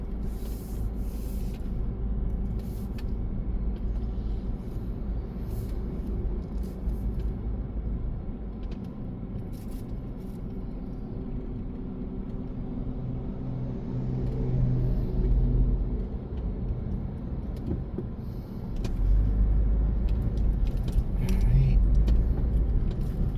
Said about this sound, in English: It's a very busy traffic here.